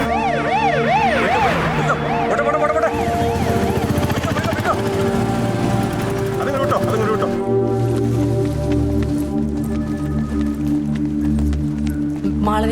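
An ambulance siren wails loudly in a hospital emergency scene from the Malayalam film Oruthee, rising and falling repeatedly before giving way to heavy engine and traffic rumble, with people talking over it.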